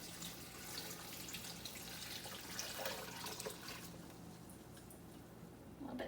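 Four cups of chicken broth pour into a pot for a chickpea and sweet potato stew, a faint, uneven trickling and splashing of liquid that tapers off toward the end.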